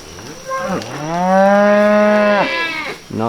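A cow on a farm lets out one long, loud, rising moo that holds steady for about two seconds before breaking off, followed by the start of a second call.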